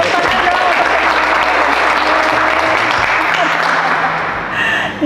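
Loud, close applause fills a casual talk-show set with cadets of a maritime polytechnic, a dense continuous patter of many hands clapping that holds steady and dips slightly just before the end.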